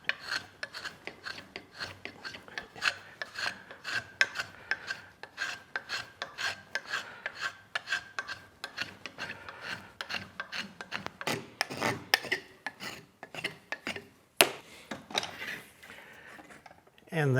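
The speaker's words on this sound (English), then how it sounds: "One with a spoke shave." A spokeshave shaves a sawn wooden hand pattern for a sack-back Windsor chair in repeated rasping strokes, each a short scraping rub, steady and close, with a sharper knock near the end.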